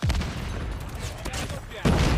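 Switchblade X9 submachine gun fire in Call of Duty Mobile, a dense rapid burst rattling almost continuously with a heavier blast at the end, mixed with game sound effects.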